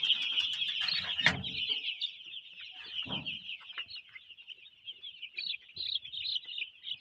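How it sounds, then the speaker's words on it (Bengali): Broiler chicks in a brooding pen give a constant, overlapping chorus of high-pitched chirps and peeps. A couple of louder thumps or knocks sound early on. "এইভাবে ব্রয়লার মুরগি ব্লুডিং করে।"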